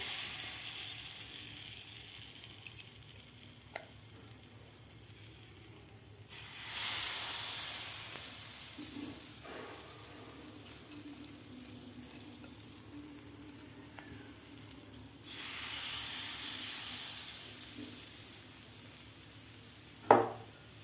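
Batter-dipped bread for bread chilla sizzles in a hot pan, a steady frying hiss with two louder bursts as pieces are laid in, plus occasional utensil clicks and no talking.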